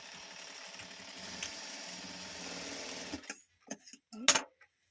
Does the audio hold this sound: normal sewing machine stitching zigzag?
yes